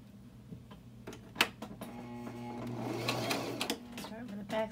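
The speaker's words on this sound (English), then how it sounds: "let's take it back to the sewing machine" A sewing machine stitches fabric for an envelope-style cushion cover, a steady mechanical whirr running close and fairly quiet with brief clicks and a louder burst partway through.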